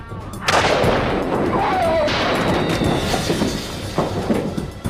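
A sniper's rifle shot cracks through a loud, dense background of rumble and noise in police footage, with a sharp report near the start and further crack-like bursts following.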